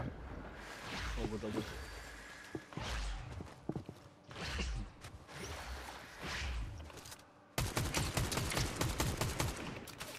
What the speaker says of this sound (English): Gunshots right in front of me.